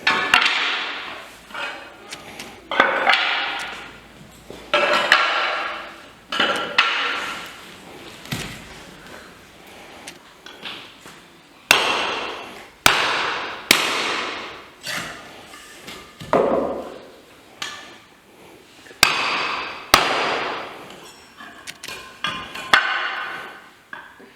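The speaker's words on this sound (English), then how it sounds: "Now, I would split this down again to get a roofing slate out of it." Sharp hammer blows on a chisel split a slab of Welsh slate, each strike a crisp knock followed by a cracking, tearing sound as the layers part, repeated steadily at close range with no talking.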